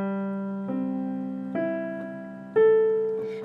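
Ukulele strung with a low G, its strings picked one at a time from the lowest note up to the highest, four distinct ringing notes in an even sequence.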